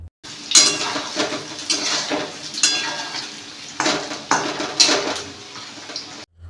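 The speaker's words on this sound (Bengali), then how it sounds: "এক এক করে মাংসের পকোড়াগুলা যেটা ম্যারিনেশন করে রাখা হয়েছিল সেটা এক এক করে ছেড়ে ভালো করে ভেজে নিতে হবে।" Marinated chicken pakoras are dropped into hot oil one by one and fried in a pan for chili chicken, with utensil clatter and scraping over a steady frying hiss, close and fairly loud.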